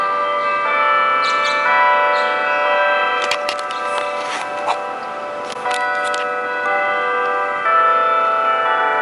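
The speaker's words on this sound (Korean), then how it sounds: "종소리가 들립니다" A bell rings in a steady, sustained tone with shimmering overtones that carries on throughout. Irregular brighter strikes or clanks sit over the ringing partway through.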